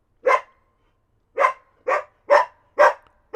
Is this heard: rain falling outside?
no